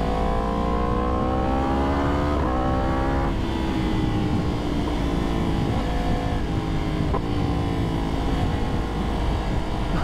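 A Yamaha R1 sport motorcycle engine drones loudly and continuously while riding, its pitch climbing with the throttle, dropping at each gear change, then rising again.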